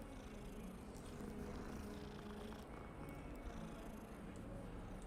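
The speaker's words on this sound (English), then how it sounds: "Let's pet the cat." A video-game cat purrs steadily while being petted, a continuous low rumble lasting the whole stretch at moderate level with no talk over it.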